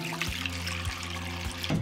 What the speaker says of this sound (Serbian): Zatim ću sipati vodu do visine poklopca.